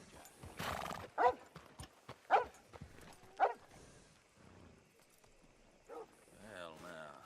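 Horse hooves clip-clop in Red Dead Redemption 2 as a horse is hitched up, a few sharp hoof strikes and a whinny standing out over game dialogue.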